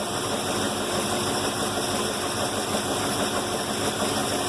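A Trojan F25 engine runs steadily for ignition timing adjustment, giving a continuous, even, close-up mechanical drone at idle with a slight knocking texture and no talk.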